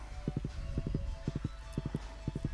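Horse hooves clip-clop in a farming game, a quiet steady pattern of triple-beat hoof taps repeating evenly over a soft background hum, with no talking.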